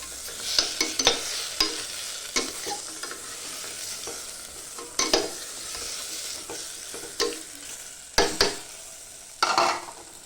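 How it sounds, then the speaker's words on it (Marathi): Ginger garlic paste frying in oil in a pressure cooker, a close continuous sizzle broken by repeated scraping stirs of a spoon against the metal pot, alone without talk. "त्याच्यामध्ये चांगलं मिक्स करून घेतलं, चांगलं फ्राय होऊ दिले"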